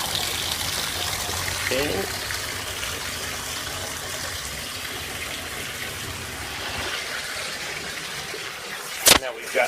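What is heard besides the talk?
bathtub filling up with warm water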